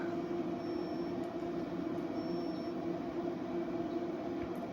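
An electric oven and kettle run on an inverter, a steady, even whirring hum with broadband hiss without a break.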